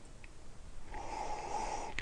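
Sniffing white wine from a glass during a tasting, a single soft, drawn-out nasal inhale lasting about a second, close to the microphone with no speech over it.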